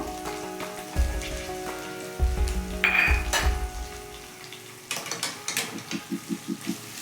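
Thinly sliced onions sizzle and crackle as they hit hot oil on medium flame, with a steady frying hiss, a few stirring scrapes and soft clatters, and no one talking.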